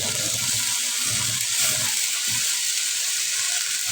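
Chopped saag greens sizzle and hiss steadily in a hot pan, a dense continuous frying noise with faint stirring rustles underneath.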